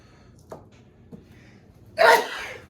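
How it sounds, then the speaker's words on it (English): A single sharp sneeze bursts out loud and close in a home kitchen where cayenne pepper is being added to food, preceded by a couple of faint breathy catches. "Ooh, I'm like to sneeze."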